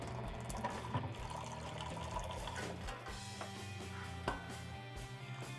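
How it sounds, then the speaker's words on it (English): Cleaning solution runs through a kegerator's beer line and faucet back into a bucket, a steady rushing and gurgling flow with small splashes and clinks throughout. "the cleaning solution is going through your faucet, through the beer line, back into this bucket"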